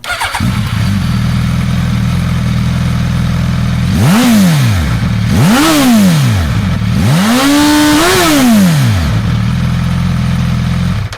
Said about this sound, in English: it's got that sporty inline four soundtrack with a particularly bassy exhaust note